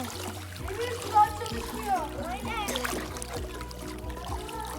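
Water splashing and sloshing nearby in a pool with small bursts of movement as a young girl in a mermaid costume swims, mixed with her voice and other voices in the background.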